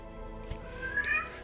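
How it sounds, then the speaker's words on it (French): A single short meow from a cat, fairly faint over a steady background hum. "vous avez entendu le chat vous saluer"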